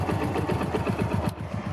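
A motorcycle engine fed gas fuel from a bottle through a pipe idles close by, making a fast, even, rhythmic chugging pulse at moderate volume, with no voices over it.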